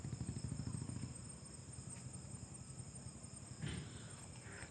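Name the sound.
grasshoppers chirping in background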